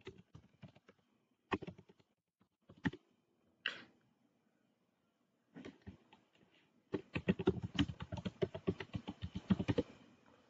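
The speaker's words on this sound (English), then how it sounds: "you will type your password" A password typed on a computer keyboard: scattered single keystrokes and short pauses, then a quick run of close, crisp key clicks, with no talking.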